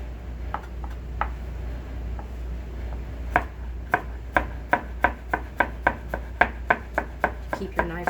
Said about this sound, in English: Keep your knife strokes nice and close together.